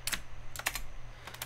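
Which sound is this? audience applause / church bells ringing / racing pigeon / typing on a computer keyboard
typing on a computer keyboard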